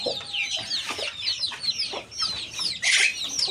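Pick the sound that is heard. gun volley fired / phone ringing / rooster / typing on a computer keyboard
rooster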